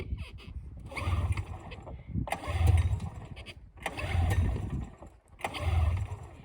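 A rebuilt small engine on full choke is cranked and sputters to life, giving repeated rough bursts of engine noise that rise and fade in a roughly even rhythm, close by.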